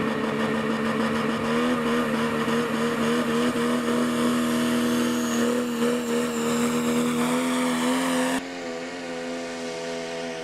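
A loud pulling truck engine at a truck and tractor pull revs hard and holds a high, steady roar, then cuts off abruptly near the end, leaving a lower idling rumble.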